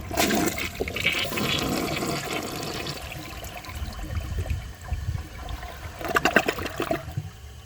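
A 2004 Gerber Aqua Saver toilet flushes a grocery bag down in a rushing gurgle of water that tapers to trickling, then ends with a brief burst of splashing.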